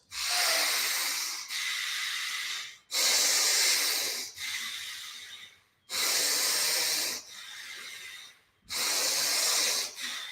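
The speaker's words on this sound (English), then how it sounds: "begin those exaggerated inhales and exhales" Four rounds of exaggerated deep breathing during a breathwork exercise, each a loud, close, airy inhale and exhale of a couple of seconds, separated by brief pauses, with no talk.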